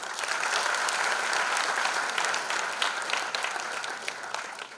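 Audience applause for the band at the Nayii Udaan stage event, a strong, dense burst of many hands clapping that holds steady and then thins slightly toward the end.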